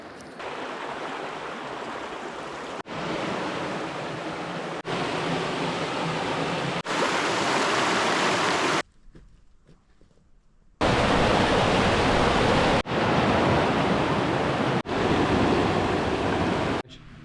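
River water flowing over gravel and rocks on a February day, a steady broadband rush that stays loud and close, dipping briefly to a quieter stretch before resuming at full strength.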